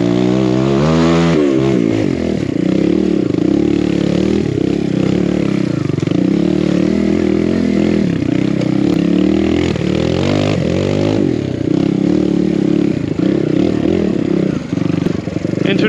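A 2023 Husqvarna TE300i dirt bike rides a tight, twisty trail. Its engine drones loudly and continuously up close, with repeated throttle swells and revving throughout.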